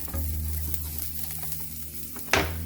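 Green chilies fry in a little oil for a Pakistani fried potato slice dish, giving a steady close sizzle over a low humming drone, ending in one louder scrape of stirring.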